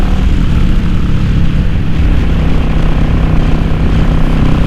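A motorcycle engine fitted with a K&N Chrome Top RC-0850 universal air filter and re-jetted Mikuni carburettor runs at a steady idle, a loud, close, continuous low rumble with an even pulsing throb and no voices.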